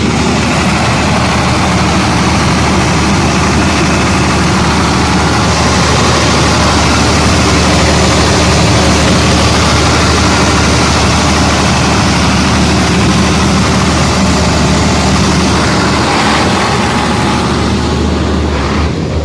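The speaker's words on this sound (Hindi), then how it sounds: "कुमिंस का इंजन है।" A Cummins diesel generator engine runs steadily after a wiring repair, a loud, continuous low rumble with a constant drone throughout, close by and with no voices.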